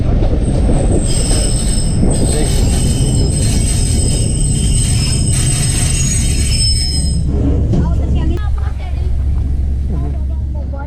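A passenger train's wheels screech in a long, high metallic squeal over heavy rumbling as it brakes into a station in hilly country in Pakistan, the squeal fading out near the end while voices murmur.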